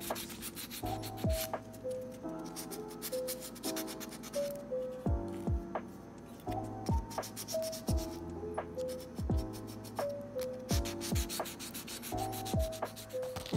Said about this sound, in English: So it's time to break out the fine grit sandpaper and get cracking on that.